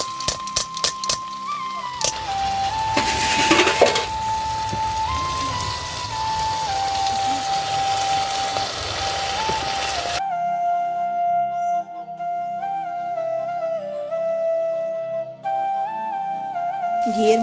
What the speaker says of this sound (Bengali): কাউন চালটা আমি কিছুক্ষণ ঘিয়ের মধ্যে ভেজে নিব